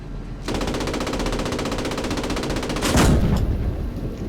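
Machine gun fire from a World War II Post Scriptum battle at Carentan rattles out as a loud, rapid, evenly spaced burst that starts sharply and runs continuously, with a heavier blast near the end.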